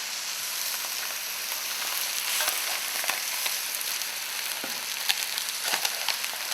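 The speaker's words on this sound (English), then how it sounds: "One side must be fried now. We have to turn it and get the other side fried." Fish wrapped in banana leaf frying in a pan for Kerala meen pollichathu, a continuous bright sizzle and crackle up close with occasional soft scrapes, no talking.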